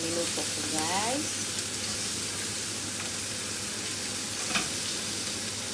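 Pork sizzling and frying in a pan at breakfast, a steady, close hiss of hot fat that runs throughout, with a brief stirring scrape near the start and a faint voice in the background.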